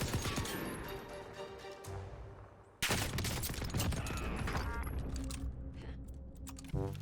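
Bren machine gun from Call of Duty Warzone firing in rapid, dense bursts, with mechanical clatter and a sharp reload or weapon-handling sound partway through, loud and close with no talking.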